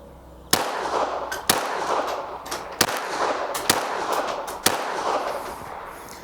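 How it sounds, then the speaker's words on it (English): Five sharp shots from a Kriss Vector KV22 .22LR pistol fired at a 15-yard silhouette target on a range, evenly spaced about a second apart, each a crisp crack with a short ringing tail. "We're going to go for center mass first with these 5 rounds."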